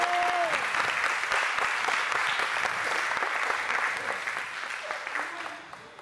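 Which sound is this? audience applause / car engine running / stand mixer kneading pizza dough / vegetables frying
audience applause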